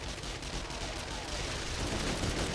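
Sustained gunfire from weapons fighting zombies during a horde night in the survival game 7 Days to Die, a dense continuous rattle of shots at steady loudness with no talking.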